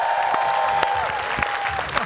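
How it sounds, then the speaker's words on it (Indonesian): Audience applause for a guest star at a live show, a steady patter of clapping from a crowd, fairly loud and close, with a sustained tone running beneath it. "Kita beri tepuk tangan yang paling meriah untuk bintang tamu kita, Bung Billy, Bung."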